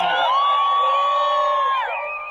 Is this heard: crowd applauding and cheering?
yes